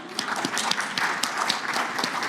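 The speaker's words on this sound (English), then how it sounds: "Round of applause to you all." A conference audience at a talk applauds, a dense continuous patter of many hands clapping at moderate loudness for a couple of seconds.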